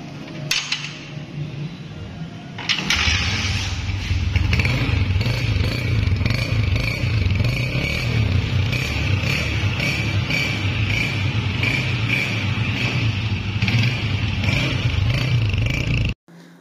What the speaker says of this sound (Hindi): स्टार्ट करके बाइक को आपको साउंड चेक करवाएंगे